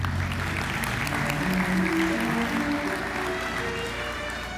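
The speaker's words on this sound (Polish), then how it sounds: "bardzo wielkie brawa" Audience at a political party election convention applauds, a continuous, fairly close wash of clapping with some music or crowd noise beneath, holding steady before easing slightly.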